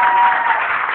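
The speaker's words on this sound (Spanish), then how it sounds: "Un aplauso otra vez a los cristianos." Dense applause from an audience at a book-fair music event in the Palacio de Minería, Mexico City, a brief continuous wash of clapping heard alone.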